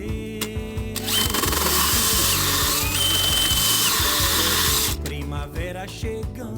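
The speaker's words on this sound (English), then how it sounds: "I'm drilling through my beautiful newly varnished deck." A power drill bores through a newly varnished wooden boat deck, grinding steadily and loudly for about four seconds before it stops, with short whirring bursts before and after.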